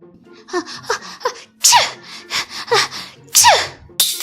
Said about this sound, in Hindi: ज्यादा भीग जाने की वजह से वो छींकने लगी।